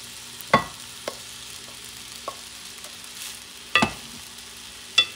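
Rice and beans are stirred in a pot, with a few sharp spoon scrapes and knocks against the metal spaced over several seconds above a faint steady background.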